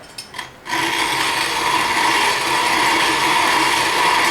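Country Living hand grain mill grinding brown rice into flour on a coarse pass, a steady dense gritty grinding rasp that starts abruptly after a brief quiet moment and runs continuously, close and fairly loud.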